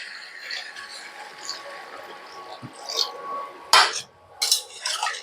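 Potatoes with spices and water are stirred in a pan for a vegetarian aloo dum. A utensil scrapes and clinks against the pan in short, uneven strokes, close and moderately loud, with sharper knocks toward the end.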